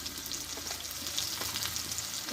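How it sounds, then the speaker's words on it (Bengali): Two large chopped onions fry in oil with turmeric and salt, a faint, steady sizzle with light crackles and occasional stirring scrapes, heard close with no voices. "পেঁয়াজটা একটু ভালো করে ভেজে নেবো"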